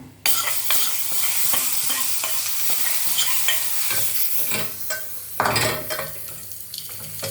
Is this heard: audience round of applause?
no